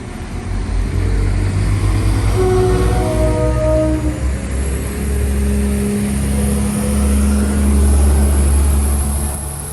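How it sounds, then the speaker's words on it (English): A train pulls away from a station platform in Northern Ireland, its engine rising in a steady, loud drone with tonal whine shifting as it accelerates and moves off, no voices over it. "we'll get this train going away."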